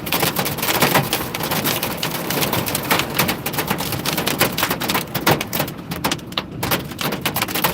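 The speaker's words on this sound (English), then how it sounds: "We're getting right in the hail pour now." Torrential rain mixed with hail pours down in a violent storm with strong winds on the north side of Manhattan, a dense, steady hiss and patter of close impacts filling the whole stretch with no talk.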